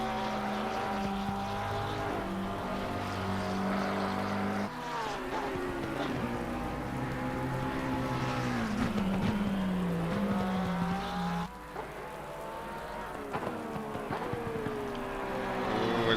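GT race cars at the Hungaroring circuit howl past with rising and falling engine pitch through gear changes, loud and continuous, the note sweeping down as a car passes and brakes.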